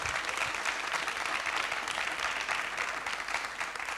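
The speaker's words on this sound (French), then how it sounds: "on peut les applaudir." An audience at a science short-film evening applauds a film team, steady dense clapping throughout, moderately loud with no voices over it.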